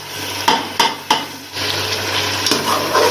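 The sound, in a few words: tomato paste added to frying chicken and stirred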